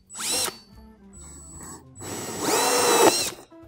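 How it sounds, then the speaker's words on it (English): A power drill fitted with a hole saw cuts through foam for a Marvin the Martian helmet, whining in two close, loud bursts with a short pause between them. "So there's a hole saw on there, and I can just drill a hole in that."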